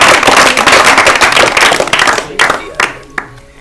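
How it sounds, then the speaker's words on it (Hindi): Close, loud audience clapping breaks out for a correct answer at an Urdu literary quiz show, dense at first, then thinning into a few scattered claps before stopping. "बिल्कुल, ताली बजाइए इनके लिए।"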